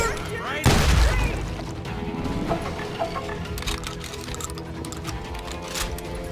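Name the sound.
shotgun firing in Call of Juarez: Gunslinger video game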